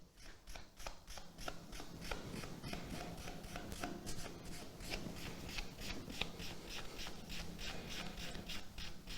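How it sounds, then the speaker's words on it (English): A paper towel rubs briskly over a rainbow wax finish on wood, giving a close, quiet, rhythmic series of scratchy strokes that runs steadily throughout. "I'm going to use another part of this same paper towel just to give that a bit of a dry."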